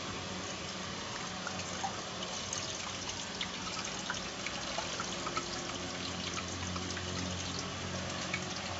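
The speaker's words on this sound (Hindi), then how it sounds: "इसमें हम डाल देंगे थोड़ा पानी," Half a glass of water poured into a quail karahi, giving a steady, close liquid pour and trickle that stays even for about nine seconds, with no one speaking.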